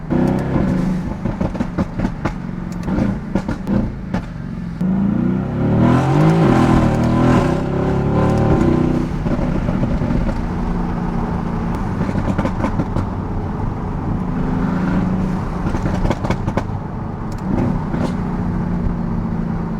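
Mercedes-AMG GT S twin-turbo V8 on a downtown San Diego street, engine revving loudly and steadily with crackling exhaust pops echoing off nearby barricades, the roar sustained close up throughout.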